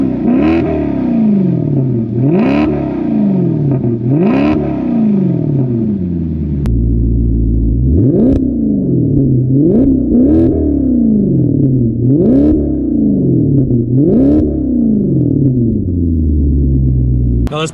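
A Maserati GranCabrio V8 convertible revs loudly and close: three swelling throttle blips, then a quicker run of about five sharp, snarling revs, each falling back to a rumbling idle.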